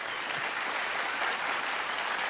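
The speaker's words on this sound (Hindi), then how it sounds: "मैं चाहता हूँ कि जगजीत जी के लिए जोरदार तालियां हो जाएं एक बार." Audience applause at a comedy show, a thick, continuous wash of many people clapping, steady and fairly loud across the whole stretch, with no voices on top.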